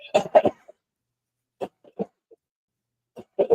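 A few short, sharp coughs in quick bursts, followed by sparse quieter throat sounds and more coughing at the end, close and fairly soft.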